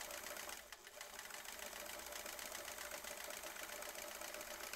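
A sewing machine stitches steadily at close range, its motor giving an even, continuous whir with no one speaking.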